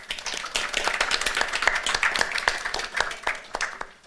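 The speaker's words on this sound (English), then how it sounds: "So guys, please give a round of applause for him, please." Sparse applause from a small panel audience at a conference, a few distinct claps in a loose rhythm, fairly close and moderately loud, tapering off at the end.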